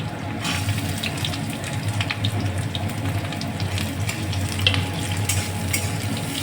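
Dried chillies and chopped onions fry in a pan for a jackfruit seed mash, giving a steady close sizzle broken by stirring scrapes, with no voices.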